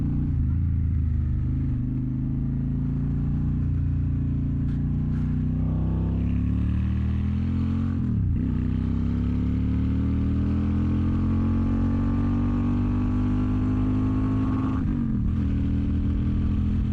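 A Honda Shadow motorcycle engine drones steadily while riding through city streets, its low harmonic tones rising and falling with speed and briefly dipping at gear changes, with no talk over it.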